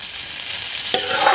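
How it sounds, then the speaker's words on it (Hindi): Potatoes with fresh coriander frying in a pan give a steady hiss of sizzling oil, with a louder burst of sizzle and stirring near the end; nobody speaks. "5 मिनट तक इसको हमें फ्राई करना है।"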